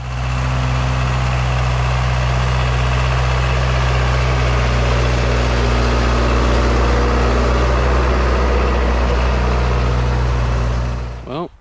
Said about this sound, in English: And get to use the old tractor for a while.